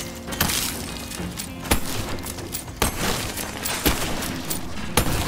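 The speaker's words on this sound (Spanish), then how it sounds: "Vamos a tirar de rifle" Rifle fire in the video game Wizard with a Gun, with sharp, crackling single shots about once a second over a busy, noisy game background, and no speech.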